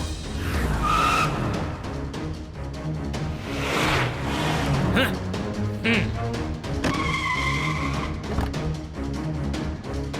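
Cartoon turbo speed car roaring along with engine drone and repeated tire skids, loud and continuous with music-like tones over it.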